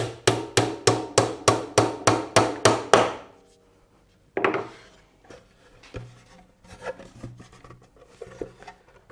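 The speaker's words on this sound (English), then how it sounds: "I just want to put a dowel into each hole that I create" A wooden dowel is tapped into a drilled hole in a wooden drawer with about ten evenly spaced, sharp, close knocks. A louder strike follows after a pause, then quieter scraping and handling of the wood.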